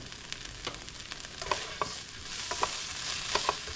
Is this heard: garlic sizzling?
yes